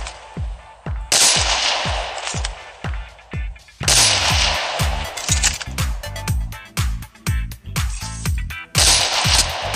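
Sniper rifle fire in Call of Duty Mobile: a rapid series of loud, sharp shots with hard echoing tails comes in uneven bursts, with dense gunfire and game effects between them and no talking.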